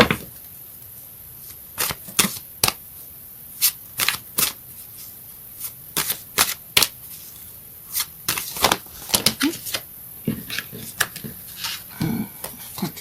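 Astrological cards shuffled and flicked in a quiet room, giving a string of sharp, separate papery snaps and riffles scattered irregularly across the clip with no voices.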